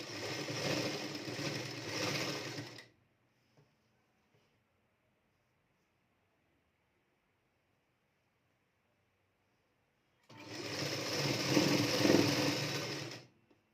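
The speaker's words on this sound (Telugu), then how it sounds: "ఇప్పుడు స్టిచ్చింగ్ చేద్దాం." A sewing machine stitches a blouse in two bursts, a steady whirring run of about three seconds, then quiet, then another run of about three seconds, close and loud with no talking.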